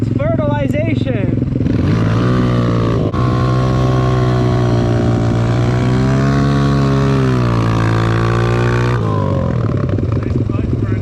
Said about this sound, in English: Nice clutch burnout.